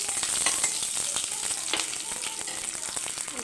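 Curry leaves and popped mustard seeds sizzling in hot oil for mutton curry, a dense, bright, continuous crackle close to the pan, with faint stirring ticks and no talking.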